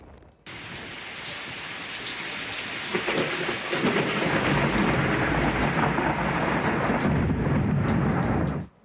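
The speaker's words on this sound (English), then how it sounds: "A big rumble of thunder" Steady rain pours during a summer storm in Seattle, with low thunder rumbling beneath the hiss of falling water for several seconds before it stops abruptly; no voices.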